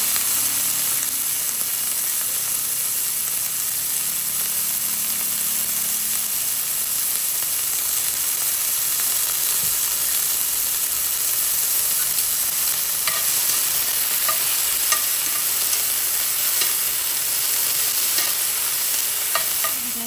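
Jalapeños and onions sauté in a pan with a steady, bright sizzle that runs throughout, and a spoon stirs with soft scrapes and taps near the end.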